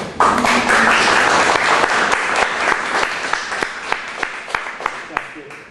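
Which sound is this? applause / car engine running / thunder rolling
applause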